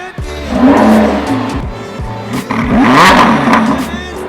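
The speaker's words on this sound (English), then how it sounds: "This car is super loud." A Lamborghini Huracan revs loudly in sharp bursts, its engine note climbing and dropping several times close by with a harsh roar.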